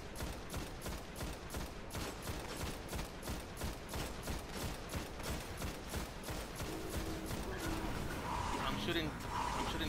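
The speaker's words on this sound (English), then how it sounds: "I'm shooting the big guy already." Sustained automatic gunfire in Destiny's Vault of Glass raid, a fast steady rattle of shots running nearly the whole time at moderate level, with game effects and a voice speaking underneath near the end.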